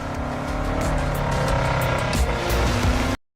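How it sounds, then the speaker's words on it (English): Engine of a car in Test Drive Unlimited Solar Crown, its induction roaring loud and steady under hard throttle with a sustained racing drone and faint tyre noise, no voices. "listen to that induction sound"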